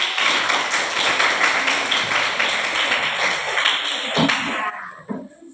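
Classroom students clapping together for classmates Anggun, Tika and Rida, a dense, steady patter of many hands that carries on for about five seconds before thinning out near the end.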